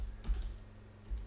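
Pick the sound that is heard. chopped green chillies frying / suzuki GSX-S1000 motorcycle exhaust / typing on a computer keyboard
typing on a computer keyboard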